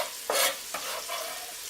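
Chopped onions frying in a pan for homemade marinara sauce, with two brief stirring scrapes over a steady close sizzle.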